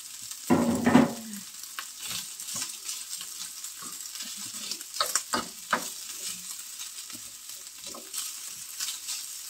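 Ampalaya with tuna stir-frying in a pan, a loud burst of sizzling and stirring near the start, then quieter scraping and sizzle with occasional clinks of the utensil.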